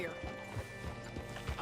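Horse hooves clip-clop quietly and unevenly in Red Dead Redemption 2, a few soft thuds under a steady ambient hum with faint mechanical creaks.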